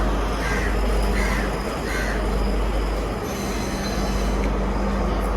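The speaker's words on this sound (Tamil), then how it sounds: "அந்த பக்கம் ட்ரெயின் போகுது பாருங்கோ" A train rumbles steadily past at a station on the Sri Lankan hill-country line near Hatton, wheels grinding and squealing on the rails, while crows caw a few times nearby.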